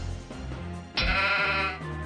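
Sheep bleating in the Warcraft video game: one wavering bleat about a second long over a low musical background, with a shorter bleat or soft game sound before it.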